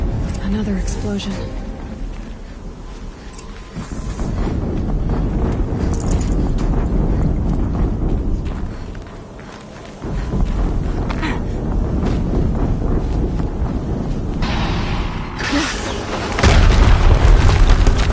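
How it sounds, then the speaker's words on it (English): Video game explosion: deep booming blasts with rumbling low roar, loud and sustained, swelling again near the end, with a voice talking over it. "Another explosion."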